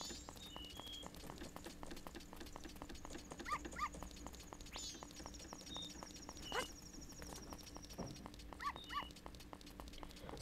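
A dog barking in rhythm with music in the Majora's Mask video game, with repeated short barks over a steady beat and game sound effects, quiet and without talk.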